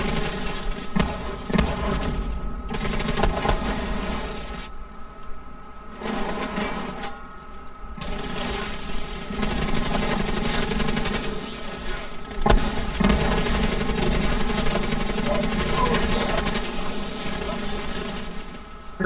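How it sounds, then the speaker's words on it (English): Shotgun fire in The Division 2, heavy gunshots bursting through a loud, constant battle mix of game noise and music, spaced irregularly across the stretch. "Forgot about this shotgun."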